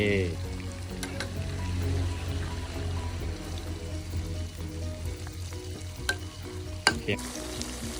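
Steady, close sizzling of chicken frying in hot oil, with a few sharp clicks and knocks of a utensil against the pan; a voice murmurs briefly underneath.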